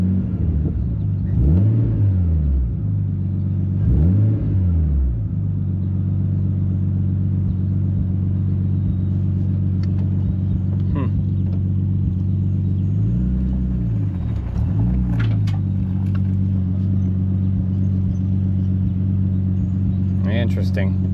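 A Nissan 240SX with a swapped RB25 engine idles loudly nearby with a deep, steady rumble that dips and wavers a few times as the idle runs rough. Someone speaks over it.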